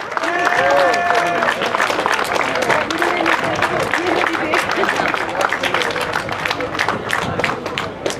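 Crowd at a junior cycling race award ceremony in Rome applauding a rider, dense clapping mixed with an announcer's voice and crowd chatter throughout, loud and continuous.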